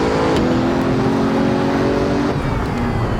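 Bugatti Chiron engine roaring under hard acceleration in the Assetto Corsa VR racing game, a loud, continuous engine drone with a rising tonal whine.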